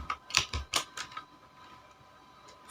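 Keyboard typing while coding HTML, a handful of sharp close key clicks in quick bursts before trailing off into quiet room tone.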